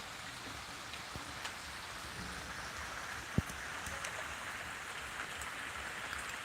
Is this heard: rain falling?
yes